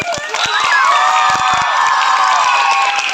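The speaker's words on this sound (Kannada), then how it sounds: "ಚಪ್ಪಾಳೆ ತಟ್ಟಬೇಕಲ್ಲ" An audience at a school talent competition cheering and shouting, with children's voices prominent, a loud, sustained crowd roar and scattered clapping running through.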